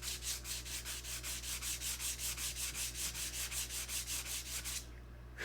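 Hand sanding of a wooden piece, steady rhythmic back-and-forth rasping strokes, close and loud, about twenty even passes before stopping near the end over a low background hum.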